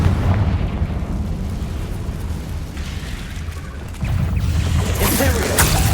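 Confringo spell blasting a barricade inside a mine in Hogwarts Legacy, a rumbling explosion that carries on steadily and then swells again into a louder crackling burst near the end.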